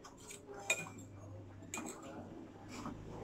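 Lucky Me Mi Goreng instant noodles being stirred in a bowl, with quiet clinks and scrapes of metal utensils, a few sharper taps among soft shuffling.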